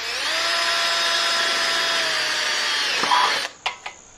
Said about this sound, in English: I'll then take this bracket off and I'll drill it